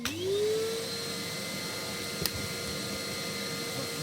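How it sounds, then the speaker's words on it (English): A household hoover vacuum cleaner switches on with a rising whine and then runs steadily and loudly on its own, with one brief knock partway through, while sweeping up after cleaning a Fireline FX5W wood-burning multi-fuel stove. "I'm just going to put my hoover on for a few seconds."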